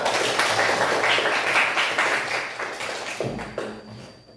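A fourth-grade classroom of children applauds, giving a dense, continuous patter of clapping that holds for several seconds before thinning out and trailing off toward the end.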